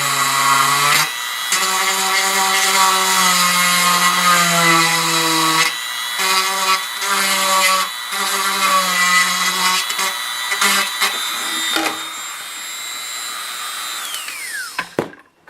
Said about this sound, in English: I'll use a Dremel tool. Matter of fact, got my Dremel tool right here.